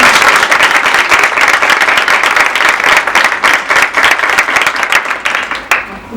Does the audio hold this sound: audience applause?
yes